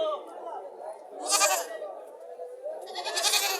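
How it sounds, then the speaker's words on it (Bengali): Goats bleating at a busy livestock market in Comilla, Bangladesh, with two loud bleats standing out over steady crowd chatter and nearby talking. "প্রচুর ছাগল আজকে বাজারে"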